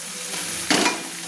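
Spice paste (masala) is stir-fried in a hot pan for spicy chicken, a steady loud sizzle broken by one brief scraping stir of a spoon through the paste.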